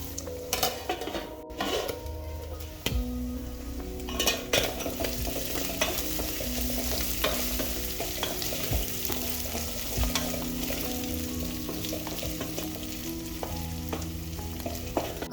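Onions for beef pilau frying in a pot while being stirred, with steady sizzling under repeated scrapes and clinks of a spoon against the metal, close and continuous with no talking.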